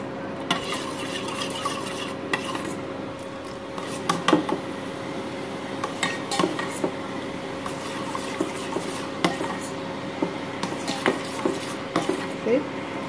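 A spoon stirs Rooh Afza syrup quickly in a pan for Shahi Tukda, with a continuous run of metallic clinks and scrapes against the pan over a low background hum, close by and with no speech.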